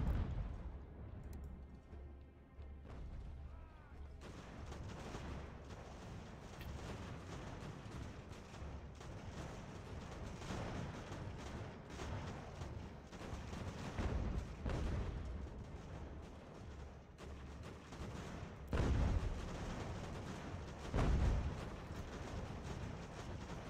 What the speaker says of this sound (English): Let our artillery and our guns do the work.